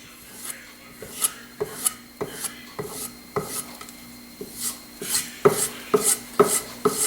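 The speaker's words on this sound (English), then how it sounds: "I'm going to flip it over and use the smooth side of the leather." A kitchen knife is stropped on the smooth side of suede leather, making about a dozen rhythmic rubbing strokes, close and moderately loud, growing a bit stronger toward the end.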